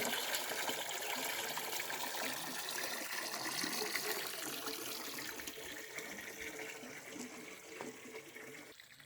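Water runs out naturally without a pump at a rural property in Balakən, a soft, continuous rushing flow heard faintly at a distance, with no speech.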